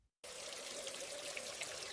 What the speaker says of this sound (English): I am washing the apples in the sink.